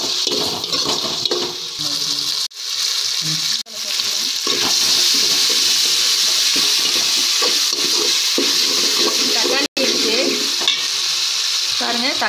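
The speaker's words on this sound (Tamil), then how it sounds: "மஞ்சத்தூள் எண்ணெயில் கொஞ்சம் வதக்கிக்கோங்க." Turmeric powder and ginger sizzle steadily in hot oil in a pan, a loud, continuous frying hiss with a few brief dropouts and occasional stirring, recorded up close.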